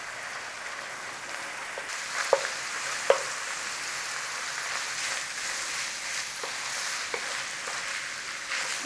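Beef fries in a pan of oil once the moisture has cooked off, giving a soft, steady sizzle with occasional sharp spits and pops and no talking.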